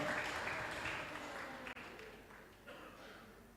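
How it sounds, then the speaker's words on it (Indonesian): Applause from a seated audience at a church gathering, a soft, fairly distant patter of clapping that fades gradually over a few seconds. "Kasih tepuk tangan Bapak Ibu."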